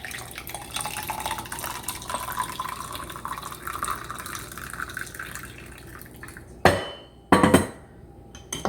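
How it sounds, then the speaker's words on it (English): Hot water poured onto lemon in a cup or glass, a steady liquid pouring sound lasting several seconds, followed by a couple of louder clinking knocks near the end. "what I do is you add hot water to it"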